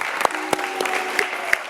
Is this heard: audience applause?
yes